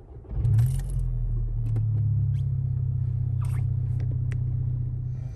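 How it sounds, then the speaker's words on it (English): A car engine cranks and catches, then settles into a steady low idle rumble, close and continuous, with a few faint clicks and small handling noises above it. "I'm going to go ahead and start my car for this."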